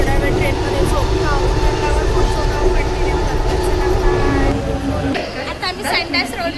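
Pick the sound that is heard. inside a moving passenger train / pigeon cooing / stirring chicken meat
inside a moving passenger train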